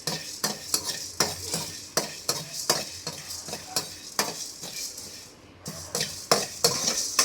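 Spices frying for a country chicken curry, stirred in a pan with a steady run of sharp scraping and clinking strokes over a soft sizzle, close and fairly loud, no talking.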